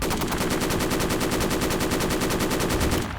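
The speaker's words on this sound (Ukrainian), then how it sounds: "Ай, хтось стріляє!" Rapid, continuous machine gun fire in a Roblox military tycoon game rattles in an even burst lasting a few seconds, loud and close, with no voices.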